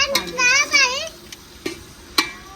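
Spoon stirring okra with chili and spices in a cooking pot at a village kitchen, a few soft scraping clicks and knocks under a voice, faint background hiss.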